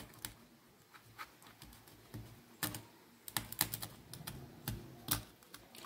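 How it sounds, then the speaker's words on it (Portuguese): Knife cutting through the small pin bones of a traíra fish during boning, a series of sharp, crisp clicks and snaps, close and fairly quiet, with irregular clusters of cuts. "Você vai cortar só os espinhos aqui"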